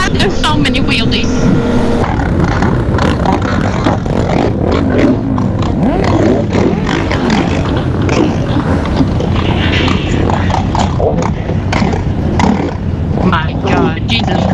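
A large group of motorcycles revs and roars nearby as riders pull wheelies on an island street, engines loud and continuous with overlapping throttle bursts, while excited voices talk over the din.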